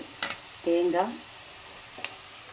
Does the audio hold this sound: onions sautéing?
yes